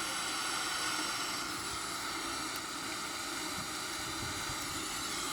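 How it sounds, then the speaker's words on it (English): A Boeing 777-300ER jet engine in a flight simulator with thrust increasing, heard as a loud, steady broadband roar with a faint high whine. It holds evenly for the whole stretch, and no voices are present. "You can see the duct pressure increases rapidly when I increase the engine thrust."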